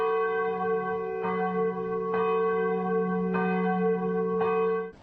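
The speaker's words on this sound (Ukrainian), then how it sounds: "звук хімічної небезпеки може звучати ось так" A church bell sound used as a chemical hazard alarm tolls steadily with a long ringing hum, struck again roughly every second, ending abruptly near the close.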